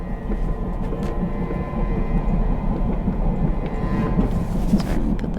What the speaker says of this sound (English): The roar of this infernal steam engine.